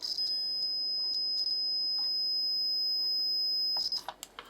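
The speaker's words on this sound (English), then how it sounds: "with it set to an audible beep for a continuity check" A high electronic multimeter continuity beep, tested between a Gibson SG guitar's bridge and a wire, sounds in short chirps, then holds as a steady tone before ending with a few clicks and taps.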